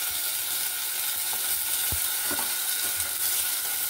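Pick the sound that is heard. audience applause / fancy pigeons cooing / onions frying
onions frying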